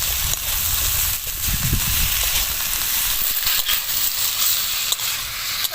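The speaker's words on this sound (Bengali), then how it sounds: "খানিকক্ষণ আমি আলুটা আর মূলোটা ভেজে নেব।" Potato and radish frying in a pan with turmeric and salt, a dense, continuous close sizzle with scattered crackles and a few soft stirring sounds.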